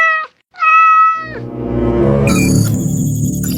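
A cat meows clearly and loudly, two close tonal calls followed by a rising wail layered with other sounds.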